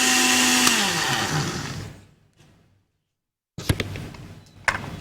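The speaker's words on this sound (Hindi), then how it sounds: "अच्छा सा ब्लेंड करना है कि चीनी और बादाम जो है वो अच्छी तरह दूध में और गुले बहार अच्छी तरह से सब मिक्स हो जाए" A kitchen blender mixes milk, sugar, almonds and rose petals into sherbet, whirring loudly for about two seconds before winding down and stopping, followed by silence and then clattering of the jar and lid.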